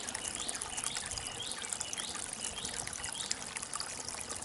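Water leaks and trickles out through the bank of a garden pond. It makes a steady, soft, close-up splashing and babbling flow with no pauses, and no one talks.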